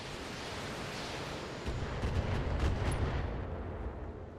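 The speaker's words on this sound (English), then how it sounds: "a little missile fire there, nothing we can't handle at this point" Missile fire in a video game comes through as a dense, steady roar of noise that swells into a deeper rumbling boom partway through and continues without speech.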